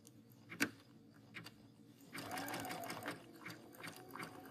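A sewing machine stitches satin stitches for machine reverse appliqué, starting with a few faint taps and one sharp click, then running in a steady burst of stitching for the second half.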